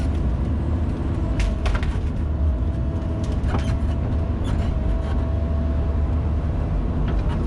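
A Bobcat E55 excavator engine runs at full throttle while clearing trees, a loud, constant low diesel roar with faint metallic clanks and squeaks over it, close and steady throughout.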